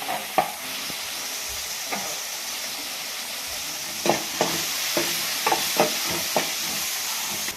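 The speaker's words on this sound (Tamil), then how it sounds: "கொஞ்சம் மஞ்சத்தூள் போட்டிங்கன்னா சீக்கிரம் வதங்கிடும்." Tomatoes with turmeric sizzle steadily in a pan with a constant frying hiss, while a spoon knocks and scrapes against the pan several times as the mix is stirred.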